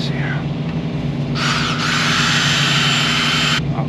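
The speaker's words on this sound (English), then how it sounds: "We're gonna drill a hole in here so that way these will fit." A power drill with a quarter-inch bit bores a hole, a steady high whirring burst lasting about two seconds that begins partway through and stops near the end, heard close over constant background hum.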